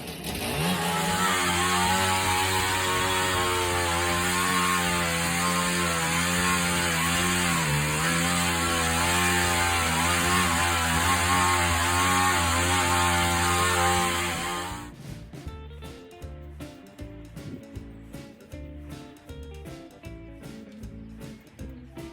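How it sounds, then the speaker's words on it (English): A rotavator engine drones loudly and steadily while tilling a lawn, its pitch wavering with load, before it cuts out and leaves rustling, irregular knocks. "So today we are going to rotivate the lawn and we are going to turf it."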